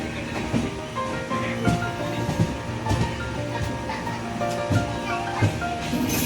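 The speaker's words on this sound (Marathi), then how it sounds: "आता गाडी सुटली आहे ट्रेन स्टेशनवरनं 7 वाजता सुटली एक्झॅक्टली" The LTT Madgaon Express passenger train pulls out of the station with a steady rolling rumble and a rhythmic clatter of wheels over rail joints, close and continuous.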